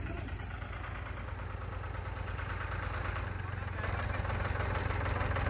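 John Deere tractor engine idling right after starting, a loud steady diesel rumble with a rhythmic knock, close by and continuous throughout.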